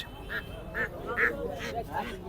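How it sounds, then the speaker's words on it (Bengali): Several ducks quack in short repeated bursts, moderately close, at a poultry market in Hemayetpur, Bangladesh, over a low background murmur. "তো এখানে বেশ কিছু হাঁস"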